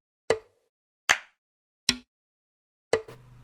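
Four short percussion sample hits previewed in FL Studio for an afrobeat drum pattern, each a dry plucky pop spaced about a second apart, the last one trailing into a faint low tone.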